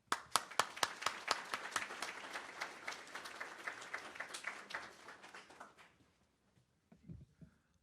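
An audience welcomes a guest author at a book reading with a burst of steady, lively applause. The clapping is dense and loud at first, then thins out and tapers off, and a few soft sounds follow once it stops.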